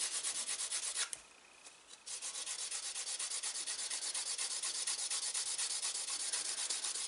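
A slicker burnishes a leather edge with rapid, steady back-and-forth rubbing strokes, close and continuous, pausing briefly about a second in before resuming at an even rhythm.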